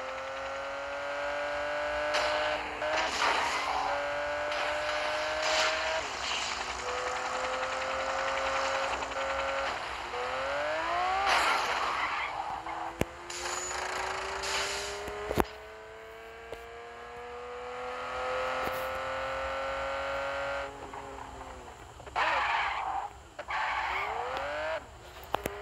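Omega Charge vehicle driving in the Gangstar Vegas video game, a steady engine whine with rising pitch sweeps as it accelerates and shifts, loud and continuous throughout with no talk.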